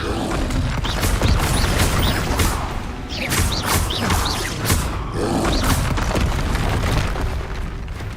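Spell blasts cast in Hogwarts Legacy, among them Confringo, Expelliarmus, Arresto Momentum and Levioso: a loud, continuous run of magical booms, crashes and thuds, several impacts following one another closely.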